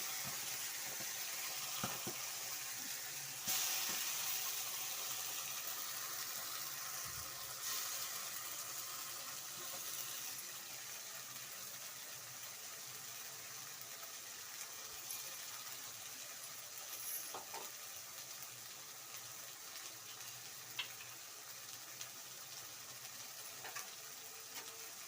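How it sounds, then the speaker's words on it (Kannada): Ground masala frying in hot oil in a kadai, a steady soft hiss and sizzle that carries on with occasional faint stirring clicks and scrapes. "ಚೆನ್ನಾಗಿ ಮಸಾಲೆ ಎಲ್ಲ ಫ್ರೈ ಆಗಬೇಕು. ಹಸಿ ವಾಸನೆ ಹೋಗೋವರೆಗೂ ಫ್ರೈ ಮಾಡ್ಕೊಳ್ಳಿ."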